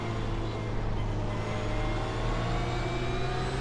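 A GT3 race car engine in the iRacing sim holds a steady, fairly faint high drone as it accelerates hard, a continuous tonal whine without talk.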